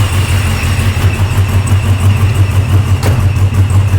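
A ProCharger supercharged car engine runs loud and close, a steady low throbbing rumble with a faint whine riding above and no clear rise in revs.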